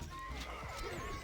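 A horse whinnies in a medieval strategy video game battle with horse archers and spearmen, a brief close neigh amid clip-clop and game sounds.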